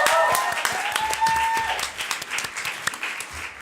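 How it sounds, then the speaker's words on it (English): Audience applause for a staff member at a question time event, a steady mass of clapping from a crowd filling the clip at moderate loudness. "So can we get a round of applause for Lisa, who does that on her own?"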